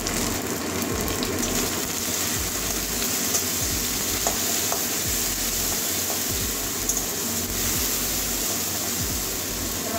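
Torn bay leaf and turmeric fry in a pan for a bhindi and potato curry, giving a steady, close sizzle with constant crackle and a few soft spoon scrapes throughout, no talking.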